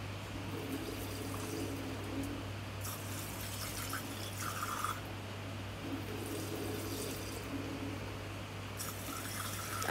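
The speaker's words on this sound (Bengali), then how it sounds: "দেখো এখন ভালো করে চালটাকে ধুয়ে নিচ্ছি।" Rice being rinsed in water at home, with steady trickling and swishing liquid over a constant low hum, continuous and close throughout, no talking.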